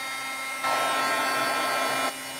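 A heat gun or hair dryer blows hot air over aqua pigment paper to uncurl it, a steady broadband whoosh that jumps louder for about a second and a half over a constant hum, then falls back.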